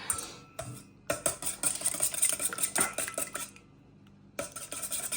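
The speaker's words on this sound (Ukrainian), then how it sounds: "І взбиваємо." Ingredients for a chicken vegetable casserole are whisked in a bowl, a fast run of close, bright metallic clicks and scrapes in bursts, pausing briefly and then resuming.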